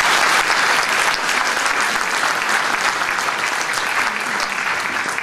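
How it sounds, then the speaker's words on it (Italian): Audience applause at a civic ceremony in Imperia, Italy, honouring a local official: dense, steady clapping from a large crowd fills the whole stretch, loud and sustained without letup, no voices standing out. "Un applauso anche per lui."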